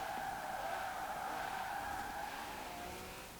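A 2017 Ferrari GTC4Lusso drifts in Forza Horizon 4 with a sustained, loud tire squeal over a steady engine drone, fading slightly toward the end, with no talking.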